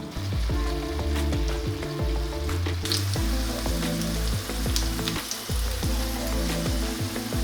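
Radishes fry in a pan with unsalted butter and honey, giving a steady soft crackling sizzle that carries on without a break, fairly quiet and without any voices.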